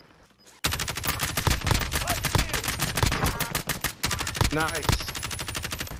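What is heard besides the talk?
hip-fire gunshots in video game Warzone Zombies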